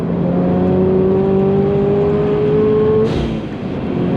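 A Subaru BRZ engine pulls hard under acceleration on a track lap, its rising harmonic tone climbing steadily and loud before a brief shift-like break near the end.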